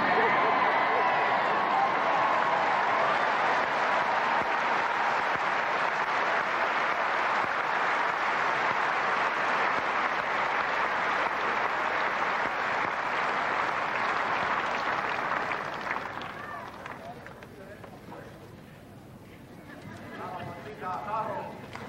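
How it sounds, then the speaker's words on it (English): The crowd at the 1994 Wimbledon final applauds in a loud, sustained roar of clapping that lasts about fifteen seconds before fading, after which a voice speaks over the quieter crowd. "As the crowd continues to applaud and admire"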